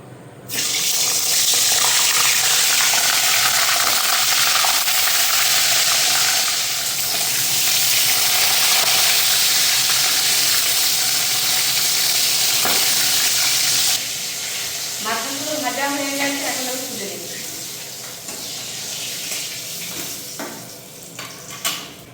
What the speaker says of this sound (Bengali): তেলটা গরম হয়ে গেছে এখন আমি ইলিশ মাছের মাথাটা দিয়ে দেবো